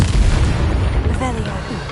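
A Confringo blasting spell explodes in Hogwarts Legacy, a deep, rumbling boom that fills the clip, with a voice briefly audible over the blast.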